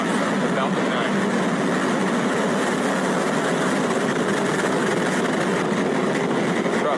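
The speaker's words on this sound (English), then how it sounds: "Liftoff of Falcon 9." A Falcon 9 rocket lifting off makes a broad, continuous, roaring rumble that stays loud and steady throughout, with rough crackling texture and no clear breaks.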